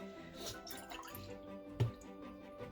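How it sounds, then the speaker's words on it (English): Oat milk poured into a container beside a De'Longhi EC155 espresso machine, a quiet liquid trickle with small drips and one brief louder splash near the end, heard close up with no talking. "I'm just pouring some milk in here."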